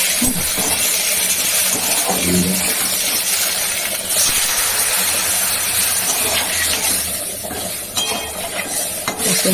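Water poured into a hot pan of red egg curry masala with Kashmiri chilli, hissing and sizzling loudly and steadily throughout, with stirring and utensil scrapes against the pan close by.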